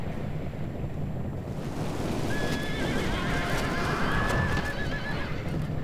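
Horses neigh and whinny in a Rome Total War battle at the Siege of Antioch, with wavering calls rising midway over a loud, steady roar of battle noise and wind-like rumble.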